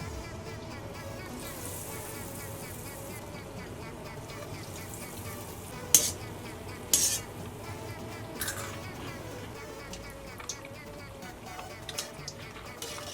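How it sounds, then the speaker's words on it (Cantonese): Steady crackling sizzle of fried milk being deep fried a second time in hot oil, with a couple of sharper pops and clicks partway through. "炸第二轉啦"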